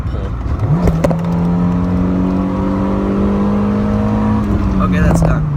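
A high-mileage car with about 175,000 miles pulls hard under acceleration, its engine note climbing quickly then holding a loud, steady drone before easing off near the end.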